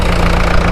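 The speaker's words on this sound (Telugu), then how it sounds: "ఇక్కడ ప్రస్తుతానికి 3 మోటార్ల వరకు చేస్తున్నాయండి వర్క్స్" Several motors drone steadily at a dewatering works on the Amaravati High Court iconic towers construction site, a loud, continuous engine-like hum close by with no talk over it.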